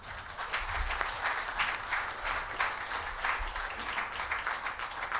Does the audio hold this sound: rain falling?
no